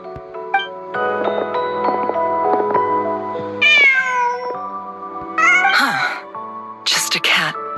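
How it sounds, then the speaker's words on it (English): A cat in the Genshin Impact video game meows several times, clear, drawn-out cries rising and falling over a bed of game music, with a character's voice speaking in between. "Just a cat."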